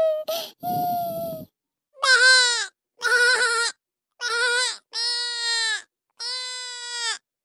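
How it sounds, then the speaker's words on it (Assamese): Cartoon goat bleating in an Assamese animated comedy, a run of six drawn-out, nasal bleats, close and loud, separated by short pauses, with no talk over them. "বৰ্তাকচোন এবাৰ ছাগলী বনাই দিলে"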